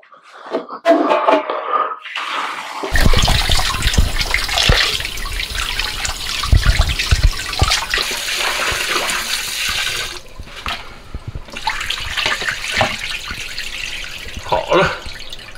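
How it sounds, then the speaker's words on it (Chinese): Large pork bones are rinsed under running kitchen tap water, which gushes and splashes continuously for most of the stretch, with brief pauses and some talking. "咱们先把大骨头啊清洗一下"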